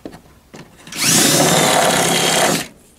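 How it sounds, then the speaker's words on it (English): A drill enlarging a hole in a Land Rover mud guard, one loud sustained whine lasting about a second and a half, preceded by faint handling knocks. "I'm just going to drill the hole out a bit more"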